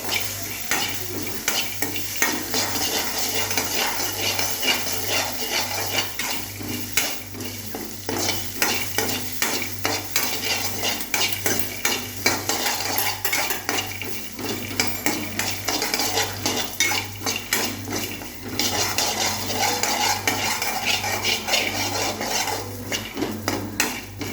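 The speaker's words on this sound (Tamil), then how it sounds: "கருவேப்பிலை போடுவோம், கிண்டுவோம்." Curry leaves stirred in a frying pan, a spoon scraping and clinking steadily against the metal over a continuous sizzle, with no talking.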